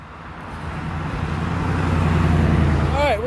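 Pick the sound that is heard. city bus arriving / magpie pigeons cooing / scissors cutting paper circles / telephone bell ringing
city bus arriving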